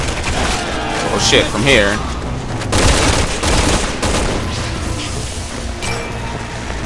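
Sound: gunfire shooting at player in video game Resident Evil 6

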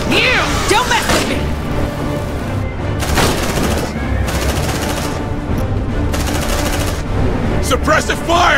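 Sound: gunfire in the video game Aliens: Dark Descent

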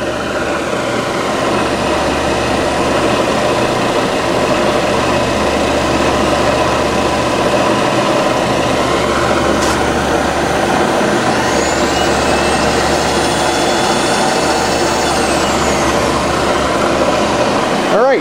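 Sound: JET vertical mill power feed running with rapid traverse

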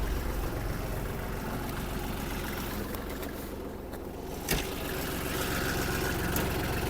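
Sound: Kubota GL-320 mini tractor engine idling

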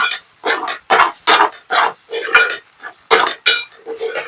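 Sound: stirring egg mixture in a pan

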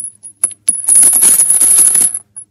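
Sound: gold coins pouring down

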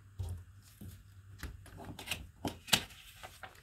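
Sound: cutting out a magazine image

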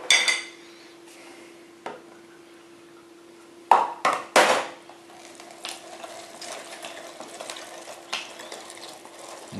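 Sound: rotary grater shredding olives

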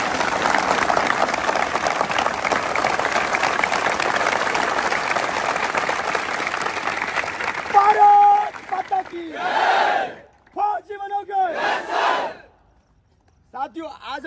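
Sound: crowd applauding loudly

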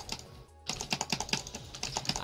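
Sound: loud clicking on a computer keyboard while gaming

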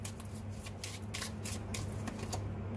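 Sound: shuffling tarot cards

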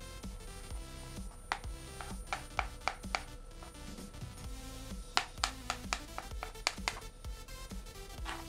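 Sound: knife chopping boiled eggs

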